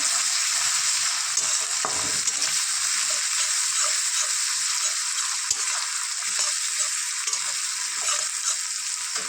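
Curry paste with turmeric and chili fries in a pan with a loud, steady sizzling hiss, punctuated by soft stirring scrapes throughout.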